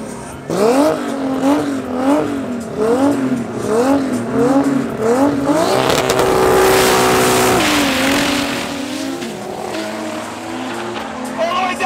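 Drag race cars launch side by side down the strip at Midvaal Raceway, engines revving hard in rhythmic gear-change surges before a sustained loud roar, with a commentator talking over them.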